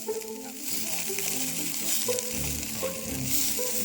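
Burgers and sausages frying on a camp stove while motorbike camping on Dartmoor give a steady, close sizzle with crackling pops that lasts the whole time.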